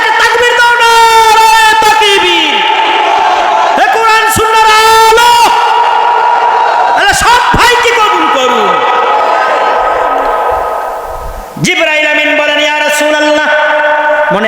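A crowd at a Bangla religious gathering shouts the takbir in loud massed bursts, voices swelling and falling in repeated waves answering a preacher's call, with amplified speech mixed in.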